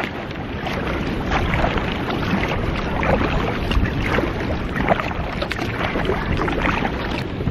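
A kayak paddled away from an inflatable weir on a calm, windless river, with soft, steady water and paddle swishes blending into a continuous close-up wash of noise.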